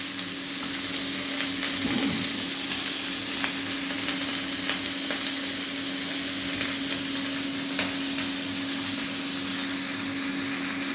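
Steady close sizzle of cauliflower, potato, carrot and beans frying in a pan for a vegetable curry, with a few scraping stir sounds and no voices.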